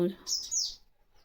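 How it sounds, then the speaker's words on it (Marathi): A sparrow gives a quick, high-pitched chirp right after a brief bit of voice, then the sound fades into quiet. "चिमणी ओरडती चिमणी"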